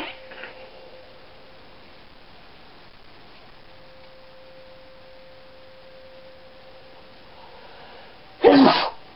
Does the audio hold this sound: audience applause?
no